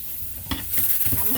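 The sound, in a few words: okra frying and sizzling in oil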